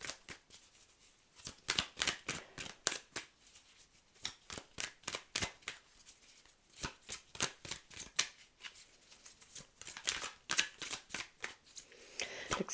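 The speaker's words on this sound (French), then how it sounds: "on va se contenter du tirage de cartes" Tarot cards are shuffled by hand in quick riffling bursts, repeated over and over in an uneven rhythm, close and fairly quiet, with short pauses between rounds.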